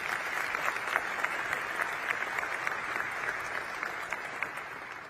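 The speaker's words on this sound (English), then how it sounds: "do give him a round of applause for the delicious food" Applause for the chef at an awards dinner: even, sustained clapping from a room of diners, moderately distant and fairly quiet, with individual claps standing out throughout.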